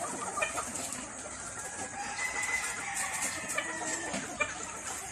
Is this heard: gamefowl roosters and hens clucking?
yes